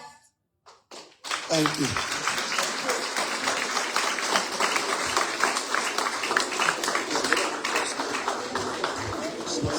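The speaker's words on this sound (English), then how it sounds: "Let's keep clapping for them as they leave the stage" Audience clapping for students after their singing at the launch of the Excellence in Learning in Liberia Project in Liberia. A brief thank-you is spoken, then dense, steady applause fills the room for the rest of the clip.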